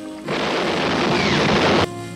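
A single loud burst of pistol fire in a western film gunfight, a dense, booming blast lasting over a second that starts and stops abruptly, with no talk over it.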